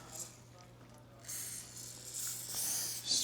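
Lubricant is sprayed onto a Diamondback DB15 rifle in a couple of soft, hissing bursts close by, each lasting about a second.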